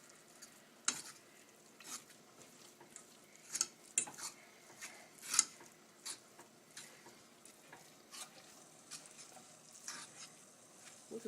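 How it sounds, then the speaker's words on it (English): A fork stirs spaetzle dough in a bowl, producing quiet repeated scraping and tapping clicks in an uneven rhythm, close and faint, with no one talking. "He has such a smooth control of that fork. He's just spinning that dough."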